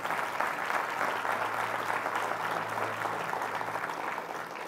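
A congregation at a worship gathering breaks into steady, full applause that carries on evenly and eases off slightly at the close, with a low hum underneath.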